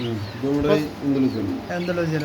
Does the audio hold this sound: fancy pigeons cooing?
yes